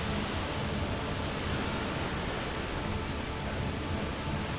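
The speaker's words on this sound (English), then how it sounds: "The rain is getting worse. I know. It's just a storm." Heavy rain pours during a storm in the video game A Plague Tale: Requiem, a dense unbroken hiss of falling water at steady loudness with no speech.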